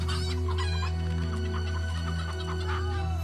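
A cartoon rooster clucks and crows in quick, busy, overlapping bursts, loud and close over a constant low hum, with no speech.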